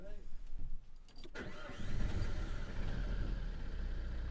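A Vauxhall Insignia 2.0 CDTi diesel engine with a faulty EGR valve cranks briefly, catches and settles into a steady idle with a slight stumble, close by, with a few faint voices at the start.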